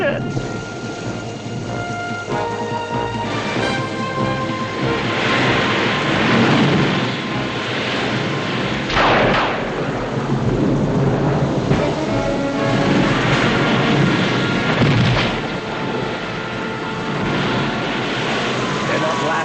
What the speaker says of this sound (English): It's only the thunder.